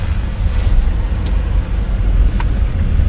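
Car engine drone during a driving test with the clutch being pressed and released, a steady low rumble mixed with wind and road noise throughout, no talk.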